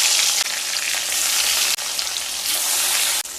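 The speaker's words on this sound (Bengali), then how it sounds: "তেল গরম হয়ে গেলে এবার মাছগুলো ভেজে নেব" Rohu fish pieces frying in hot mustard oil in a wok, a loud, dense, continuous sizzle close up with a few brief dips where the hiss falters.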